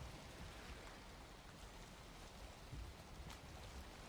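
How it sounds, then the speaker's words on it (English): Rain falls steadily in the video game Valheim, a faint, even hiss of drops with no other clear sounds. "it started raining"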